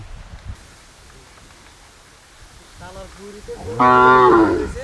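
A cow at a village field lows once, loud and near, near the end of the clip after a quieter, fainter call, over a soft rustling background.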